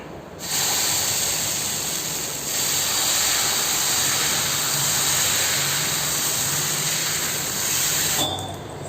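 Rava and coconut dosa batter poured onto a hot pan gives a loud, steady hiss and sizzle that holds for several seconds with brief dips, close by, with no talking.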